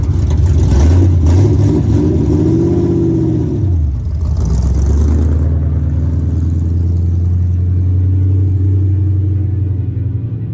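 A New Edge Ford Mustang GT engine idles while warming up in a garage, a loud steady low rumble with a brief rev and dip in the middle before settling back to idle.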